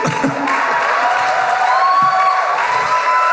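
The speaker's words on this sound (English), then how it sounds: "The applause is getting less enthusiastic" Live audience at a comedy podcast show applauding and cheering, a dense, steady wash of claps and whoops from a crowd filling the whole stretch.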